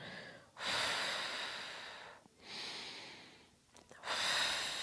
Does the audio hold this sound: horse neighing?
no